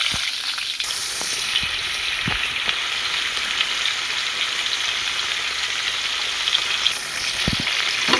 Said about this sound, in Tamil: கடுகு வெந்தயம் பொரிஞ்ச உடனே இப்போ மாங்காவை சேர்த்துக்கலாம்.